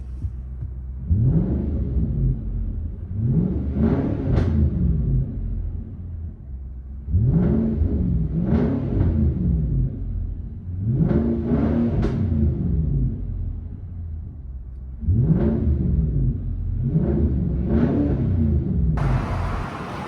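From inside the cabin of a Nissan Armada 5.6L V8 with an aftermarket exhaust, a muffled engine surges through repeated rev cycles, each climbing and dropping in a steady rhythmic pattern over a low droning hum.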